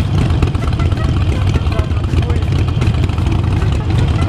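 A current Harley-Davidson Sportster 48 Special with a Vance & Hines aftermarket exhaust rumbles loudly up close, a deep, throaty, uneven idle that stays steady throughout with no talking.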